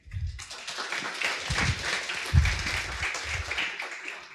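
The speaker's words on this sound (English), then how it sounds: "Big applause for Casey." An audience at a tech conference talk breaks into applause, a dense, sustained wash of many hands clapping that rises quickly and holds steady throughout.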